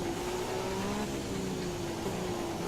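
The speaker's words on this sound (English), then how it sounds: "you can hear the bits of the engine rattling around" A damaged engine in an F1 2017 race car at Silverstone drones steadily with a rough, rattling edge, holding a continuous mid-pitched tone throughout.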